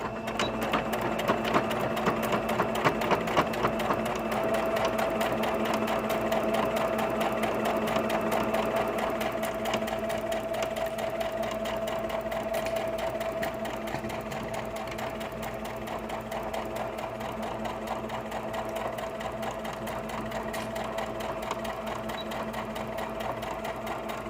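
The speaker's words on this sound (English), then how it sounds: "you're going to sew all around the edges. Back stitching as well." A sewing machine runs in a long, continuous whirring stretch, stitching around the edges of a fat quarter fabric tote bag, close and steady throughout.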